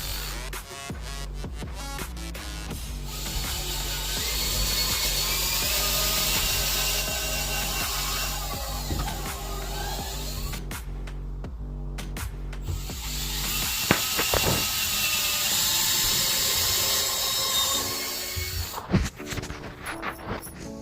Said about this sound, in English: I'm just going to drill like a little pilot hole where I want the screw to go in